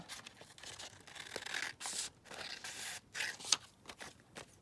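Scissors cut out laminated paper for a decorative envelope pocket, giving crisp snipping and crinkling rustles in short bursts with brief pauses, close up and moderately loud, with no talking.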